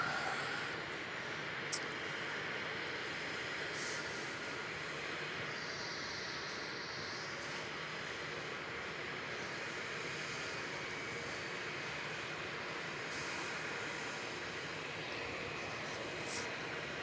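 Qantas A330 airliner landing at Melbourne Airport, a continuous jet engine roar carried in the open air, steady and moderately loud across the whole span, with a few faint distant voices.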